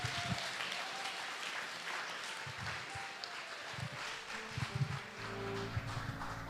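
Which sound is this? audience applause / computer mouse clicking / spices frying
audience applause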